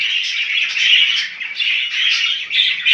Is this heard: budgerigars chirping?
yes